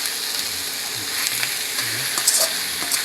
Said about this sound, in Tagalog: Igisa lang natin yan hanggang sa magkulay brown.